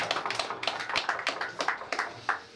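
A small crowd at a football club fan talk claps to welcome a guest, giving a lively patter of separate, fairly close hand claps spread evenly across a couple of seconds.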